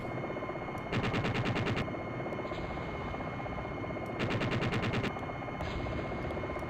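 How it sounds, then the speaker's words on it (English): In the flight-sim video game Jane's Longbow, bursts of rapid automatic gunfire rattle in two long volleys over a steady mechanical drone, with scattered single shots between them. "Let me savor the explosions."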